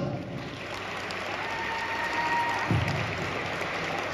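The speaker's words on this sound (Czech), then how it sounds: "velký potlesk" An audience at a ball in a Brno venue claps for a dance group, a steady wash of applause from a sizable crowd that swells slightly near the end, no speech.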